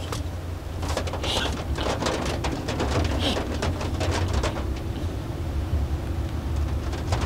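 Steady rain falls during a rainy mountain drive near a landslide area, a constant close hiss with scattered drop patter and bird cooing mixed in, no voices.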